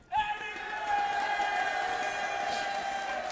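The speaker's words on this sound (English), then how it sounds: "your first cheer was from a crowd that literally cheers from anything." A large arena crowd at a League of Legends match, Unicorns of Love against FC Schalke 04, bursts into sudden cheering that swells quickly and holds as a sustained roar.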